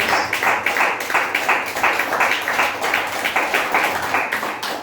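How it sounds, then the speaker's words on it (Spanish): A church congregation claps steadily together, a dense, fairly loud round of applause with a rhythmic pulse running through it, with little talk. "Den un aplauso al Señor, siéntese por favor."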